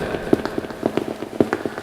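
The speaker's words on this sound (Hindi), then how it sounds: "तुरंत तेज बारिश होने लगी" Rain spatters on a surface nearby in irregular, close drips and taps against a steady wash of falling water.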